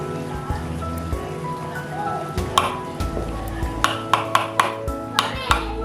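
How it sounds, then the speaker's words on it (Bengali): Lentil fritters (daler bora) frying in hot oil in a wok give a steady crackling sizzle with sharp pops and spits, several crisp bursts coming close together toward the end. "বড়াগুলো ভালো করে ভেজে নেব।"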